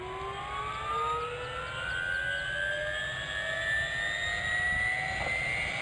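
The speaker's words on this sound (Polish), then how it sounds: "Słychać, jak się właśnie uruchamia, rozgrzewają się silniki." Helicopter engines spooling up in Farming Simulator 15, a steady whine of rising tones climbing slowly in pitch over a constant low turbine rumble.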